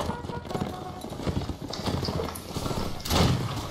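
Cavalry horses gallop in the North and South line battle game, a dense rapid clatter of hooves under overlapping voices and battle noise, swelling louder near the end.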